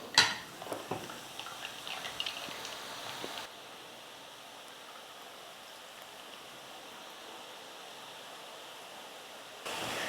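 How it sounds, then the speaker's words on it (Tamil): Gram flour boondi batter deep frying in hot oil for a Kerala-style mixture gives a steady, rain-like crackling hiss with scattered pops, fuller for the first few seconds and then settling into a softer, even sizzle. "பூந்தி பொரிச்சு எடுத்துக்கலாம்."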